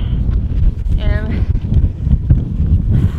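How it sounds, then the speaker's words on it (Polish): Strong wind buffets the microphone in a continuous low roar beside a small hut, with a person speaking throughout. "A wiatr się tak pokazał, że ciężko oddychać teraz."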